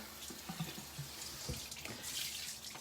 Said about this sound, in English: I load it up with hot water, as hot as I can get it